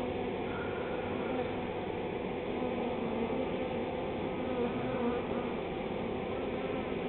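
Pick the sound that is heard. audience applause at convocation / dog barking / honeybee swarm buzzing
honeybee swarm buzzing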